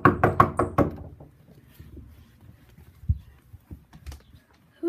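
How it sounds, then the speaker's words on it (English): Several quick knocks on a house door sound loud and close at the start, followed by quieter footsteps and small thuds. "Who's at the door, I wonder?"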